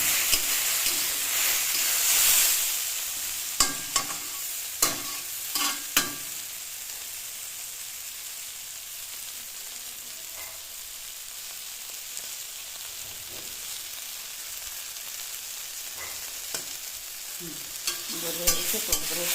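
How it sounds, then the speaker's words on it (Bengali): Sliced bottle gourd fries in a pan with a steady sizzle and hiss, while a spatula scrapes and stirs in sharp, irregular strokes, close up and with no talking. "পাঁচ ছ মিনিট ভাজতে হবে।"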